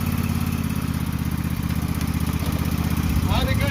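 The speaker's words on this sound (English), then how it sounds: "Start it up. Choke it out, Don." A Craftsman lawn mower engine runs at an auction, its loud, steady putter continuing throughout the short stretch while someone talks over it.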